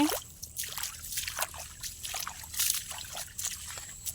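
Feet sloshing through muddy rainwater pooled in a vegetable field after days of rain, with intermittent splashes and trickling water close by and no clear talk.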